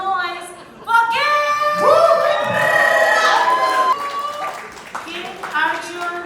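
An audience at a music launch event in India cheers and screams loudly, with high shouting voices and whoops swelling after a quiet start and then tapering toward the end.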